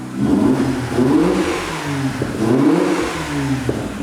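A Mazda RX-8 engine starts and revs up and down in repeated swells, loud and close, with a steady idling rumble between the surges.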